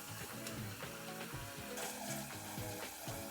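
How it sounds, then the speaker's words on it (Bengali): Spices and asafoetida sizzle steadily in a pan for Bengali fish curry, with a constant frying hiss and repeated scraping and stirring strokes of a spatula. "এখন আর একটু ভালো করে কষিয়ে নিচ্ছি।"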